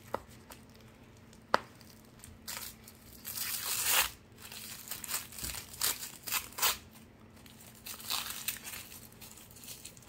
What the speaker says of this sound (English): All right, so we'll unwrap the last leg.